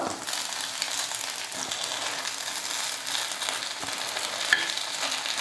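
Kuzhi paniyaram made from idli batter fries in a covered cavity pan and is turned over. A steady, close hiss and sizzle carries on throughout, with a few faint scraping clicks as the pieces are flipped.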